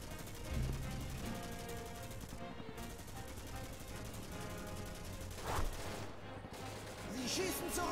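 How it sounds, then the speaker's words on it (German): Gunfire from the video game Commandos Strike Force: steady bursts of shots and explosions over a continuous battle backdrop, with voices talking throughout. "Sie schießen zurück!"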